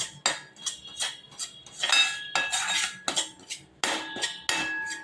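Urad flour being stirred and roasted in ghee in a metal pan, with a steady run of sharp metallic scrapes and clinks from the utensil against the pan, close and fairly loud, no talking.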